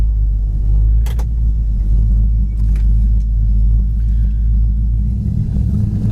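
A 1964 Pontiac GTO with a 4-speed rumbles along under way, its deep, steady low engine drone loud and close from inside the car, with a few light rattles and clicks over it.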